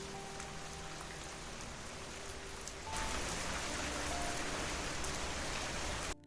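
Steady rain falls in a dense, even hiss, growing noticeably heavier and louder partway through before stopping suddenly at the end.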